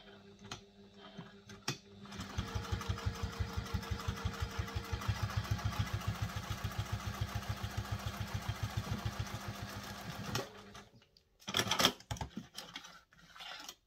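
A sewing machine runs a long stitch on a sling bag, making a quiet, regular mechanical thumping for about eight seconds before stopping, followed by a few faint clicks and shuffles.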